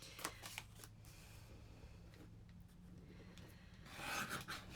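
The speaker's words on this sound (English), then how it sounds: "we'll get out my Creative Memories trimmer, which is the only trimmer that I use for my pictures" Creative Memories paper trimmer slicing through photos: soft close rasping and rubbing strokes, quiet, with a louder sliding cut near the end.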